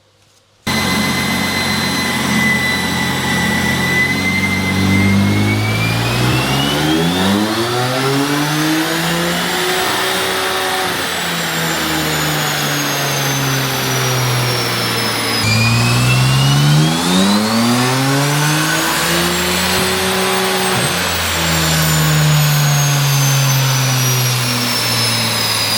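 A BMW M4 with an aftermarket downpipe revs hard on a dyno, rising and falling engine pitch through two long loud pulls with sweeping harmonics, close and alone without talk.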